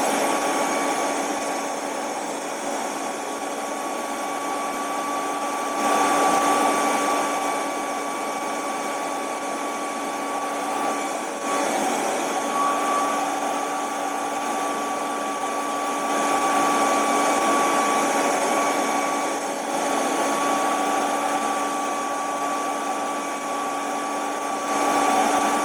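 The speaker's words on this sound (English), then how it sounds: "I'm just applying a lot of heat to really force dry this." Heat tool blowing hot air to force dry paint on a 1/4 scale Hellboy figure, a loud steady whirring blower hum that runs continuously with slight fluctuations, no speech.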